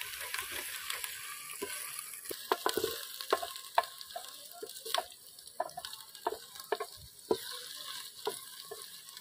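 Onion, ginger and garlic paste frying for lobia, with steady sizzling broken by repeated sharp scraping and stirring clicks from a spoon against the pan, moderately close.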